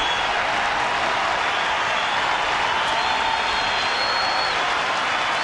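A crowd of about 29,000 at a baseball stadium, at a Red Sox at Rangers game in Texas, roars and cheers as one broad, steady wall of sound, with faint clapping mixed in and no break.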